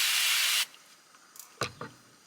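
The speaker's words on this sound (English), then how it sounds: "we're going to spray a little bit of glass cleaner on the rag" A spray bottle of glass cleaner spritzes onto a cleaning rag in one loud, close hiss lasting about half a second, followed by quiet handling and a couple of soft clicks.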